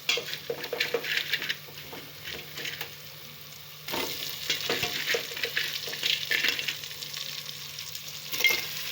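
Crabs fry in a sizzling ginger garlic paste, a steady close hiss running throughout, with a louder burst of frying about halfway through and occasional stirring and pan scrapes.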